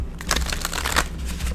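Tarot cards are shuffled by hand in a short burst of quick, crisp riffling and sliding, close and alone with no talking.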